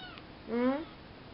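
A kitten named Pablo gives a single clear, rising-then-falling meow near the microphone, about a third of a second long, against a quiet room with no talking.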